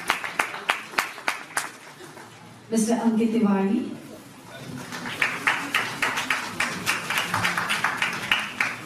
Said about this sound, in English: Please round of applause each and please.